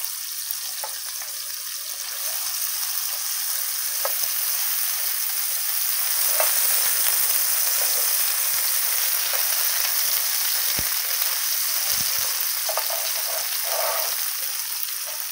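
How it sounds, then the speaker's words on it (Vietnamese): Vegetarian meat skewers frying in a pan, a steady broadband sizzle throughout with occasional light clicks and scrapes of stirring, close and moderately loud, no talking. "chúng ta chiên cho nó vàng hơn nha"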